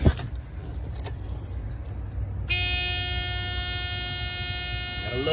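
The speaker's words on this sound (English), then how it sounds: "I love that annoying Freightliner buzz," On startup, a Freightliner Classic truck's warning buzzer cuts in abruptly partway through, a loud, steady, harsh electronic tone that holds continuously over a low engine rumble.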